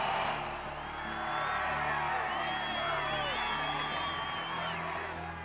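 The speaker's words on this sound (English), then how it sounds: "And the crowd goes crazy." Basketball arena crowd roaring and whooping for Allen Iverson as he drives to the hoop, a dense, sustained wall of cheers and yells with no break across the whole stretch.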